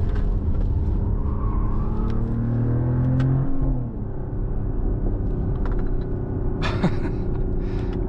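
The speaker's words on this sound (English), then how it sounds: "We have also some pumped-in noise in the cabin." Artificial engine sound pumped into the cabin of a 2025 Mercedes-AMG GLE 53 Coupe hybrid on twisty roads, a deep droning rumble that rises in pitch then drops and settles, with a few faint clicks and rustles inside the car.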